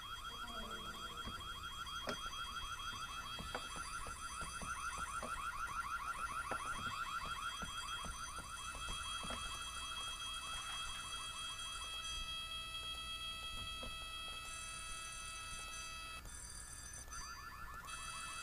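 Electronic alarm wailing in the horror game Whiteday: A Labyrinth Named School, a loud, steady warbling tone with rapid repeating pulses that keeps sounding without a break from start to finish.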